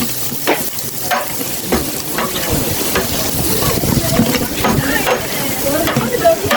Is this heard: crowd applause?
no